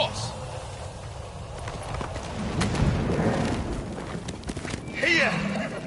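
Horse hooves clip-clop at a walk in the video game Ghost of Tsushima, a fairly close, steady rhythm that swells mid-stretch beneath a rumbling background.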